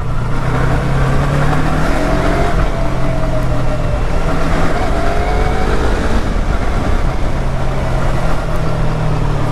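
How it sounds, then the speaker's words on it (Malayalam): A custom-painted Yamaha YZF-R3 motorcycle engine revs loud and close, climbing past 5000 RPM with a continuous rasping drone that rises and falls, with no talk over it. "കൈ കൊടുക്കുമ്പോൾ ഒരു 5000 മേലെ RPMലേക്ക് പോകുമ്പോൾ പിന്നെ സൗണ്ട്"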